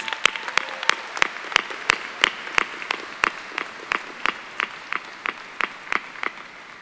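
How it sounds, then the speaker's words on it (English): Sparse applause at a college commencement hooding ceremony: a small number of separate, crisp hand claps in a steady, slightly uneven rhythm, heard fairly close and without talk. "Can we give them a round of applause?"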